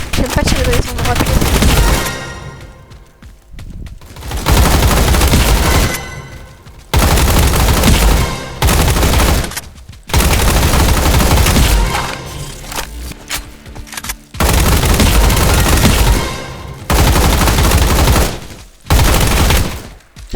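Rapid bursts of gunfire from a Roblox combat arena game, loud and dense, coming in long volleys broken by short pauses.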